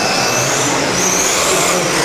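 A 20-year-old Durango DETC410 4WD electric RC touring car races around a track, a loud continuous high-pitched whine of motor and tires sustained throughout, close by and with no voices.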